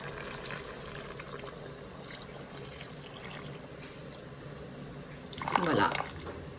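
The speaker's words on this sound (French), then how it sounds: "je vais ajouter 400 ml d'eau" Water poured into the pot of a Cookeo multicooker after browning chicken and onions for couscous, a short splashing burst near the end over steady low background noise.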